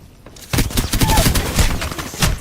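Video game gunfire erupts in a loud, dense burst of rapid shots that keeps going without a break, close and harsh, after a quieter moment.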